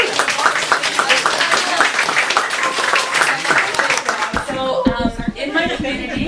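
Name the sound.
audience round of applause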